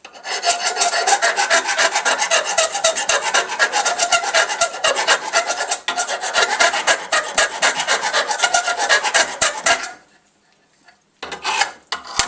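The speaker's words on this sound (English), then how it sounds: "There's only one way to get the burrs off completely, just to file them out." A hand file rasps burrs off metal on a trailer project, loud, close, rapid back-and-forth strokes for about ten seconds, a short pause, then a few more strokes.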